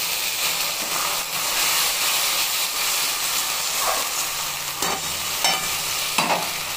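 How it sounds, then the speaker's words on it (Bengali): Onions frying in a pan for a Bengali rohu fish curry, with spices about to go in, give a steady close sizzle and hiss throughout, with a few louder stirring scrapes near the end. "দেখুন আমার পেঁয়াজগুলো ভাজা হয়ে গেল, এখন মশলা ঢেলে দেবো"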